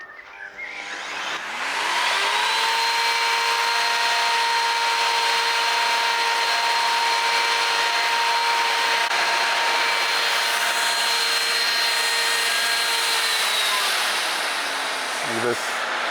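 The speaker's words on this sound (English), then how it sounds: "This stuff is just a motor of an old vacuum cleaner that I found on the rubbish." An old salvaged vacuum cleaner motor blows air into a blacksmith's forge; it spins up with a rising whine, then holds a loud, steady rushing drone with a tonal hum, and winds down near the end.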